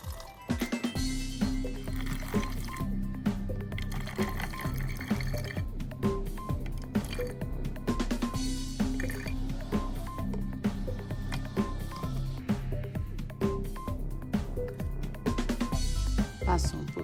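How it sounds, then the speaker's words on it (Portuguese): Water is poured into a bottle sitting on a kitchen scale, with a continuous trickling and dripping fill that comes close and runs steadily throughout, with a few brief pauses and splashy bursts. "você vai acrescentar água até um total de 100 gramas"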